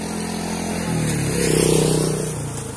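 Motorcycle engines rev and rise at an outdoor scenic spot, a mid-pitched drone that swells in the middle and then eases, heard at moderate distance with no talk over it.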